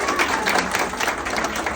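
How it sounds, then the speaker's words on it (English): Audience applause at an office opening ceremony, a dense steady patter of many hands clapping together, sustained and fairly loud throughout. "Give him a round of applause."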